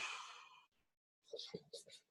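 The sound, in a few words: person exhaling a deep breath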